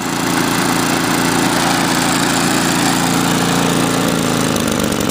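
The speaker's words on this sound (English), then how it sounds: "There's your idle. Nice and low idle speed on her for that." An MTD snowblower's small engine idles with a steady, loud, close-up drone that stays unbroken throughout, with a slight shift in tone near the end.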